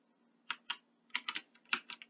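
Short bursts of keystrokes on a computer keyboard, a few quick separate taps followed by a faster cluster, close up and quiet, with no talk.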